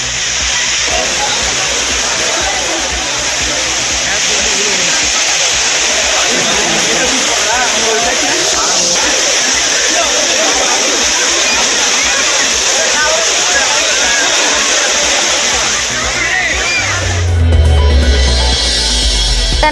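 Steady, dense rush of water pouring down the Courtallam falls on a crowded holiday, a loud continuous roar filling the scene with a brief shift near the end.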